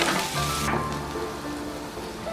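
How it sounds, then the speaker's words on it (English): British sausages and onions frying together in a pan give a steady, close crackling sizzle that runs unbroken throughout, loudest in the opening moments. "So you fry the sausages, and fry some onions"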